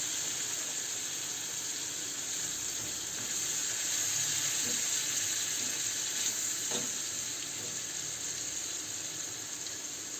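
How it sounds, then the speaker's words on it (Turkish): Lukewarm water poured into a pan of cooking meatballs and potatoes, giving a steady loud sizzle and bubbling hiss that swells slightly midway and runs continuously, close by with no talk. "Daha sonra hemen şöyle biraz ılık suyumu ilave ediyorum."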